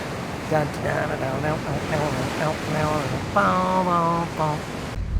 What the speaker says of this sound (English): There's a little smaller beach and the waves are just coming in.